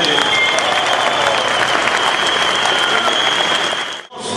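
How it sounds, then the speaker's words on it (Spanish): Steady, loud applause from a crowd at a union protest held at an airport, continuous clapping for several seconds before cutting off abruptly. "les vamos a pedir un aplauso para nuestros compañeros del SME"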